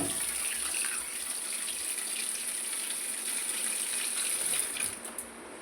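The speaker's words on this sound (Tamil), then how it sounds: "தண்ணி பாருங்கள் எப்படி திறந்து விடுறேன்னு" Steady hiss of water running from a tap, continuous and fairly close, easing off near the end.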